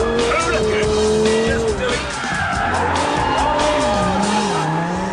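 A Lamborghini Gallardo slides sideways in a drift, its tyres squealing loudly and continuously as the engine revs rise and fall close by, with someone talking briefly over the noise.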